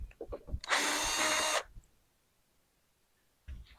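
A power drill spins out screws from a truck topper shell, one close, loud whirring burst of about a second, framed by a few light knocks and handling thuds before and after.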